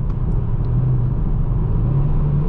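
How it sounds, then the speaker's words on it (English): A 2019 Kia Stinger GT AWD accelerates at full throttle, heard from inside the cabin as a loud, steady low engine drone with rising tone and road rumble. "The throttle is on the floor."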